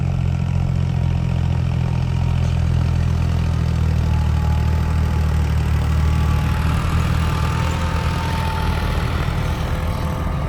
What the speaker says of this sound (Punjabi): ਇਹਦੀ ਆਵਾਜ਼ ਬੜੀ ਸੋਹਣੀ ਹੈ ਟਰੈਕਟਰ